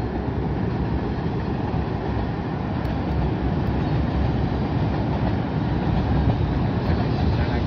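A train crosses the Vashi bridge, heard from a boat on the water as a broad, continuous rumble, steady and fairly loud throughout with no distinct rhythm.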